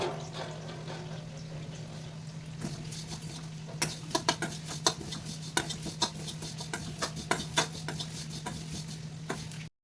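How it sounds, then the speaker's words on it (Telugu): Bitter gourd stirred in a frying pan with asafoetida and cumin, a spoon clicking and scraping against the metal in irregular taps over a steady low hum, close and fairly quiet. "ఈలోపు కాకరకాయని కలిద్దాము"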